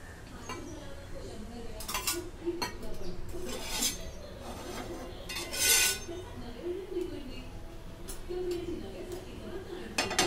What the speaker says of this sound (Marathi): आता या तव्यामध्ये तेल पसरून घेते